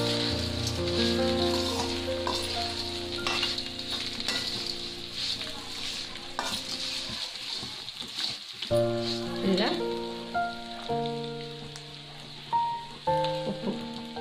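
Deep-fried ivy gourd (dondakaya) pieces sizzle in a pan with turmeric during Telugu-style home cooking, a soft steady crackle under a loud background music track.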